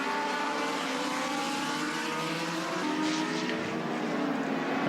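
Race cars at a short-track Thursday Thunder event roar steadily through turn three, a continuous dense engine drone with overlapping whining tones as several cars pass, loud and sustained throughout.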